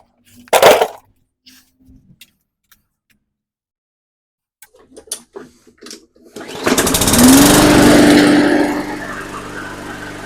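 A Briggs and Stratton 300E small engine is pulled, sputters briefly after a few clicks and handling sounds, then catches and runs loudly for several seconds before easing off, heard close up without speech.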